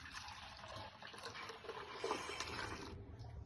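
Water pours into lemon juice in a kitchen, a soft, faint trickling fill running steadily for a few seconds with no talk.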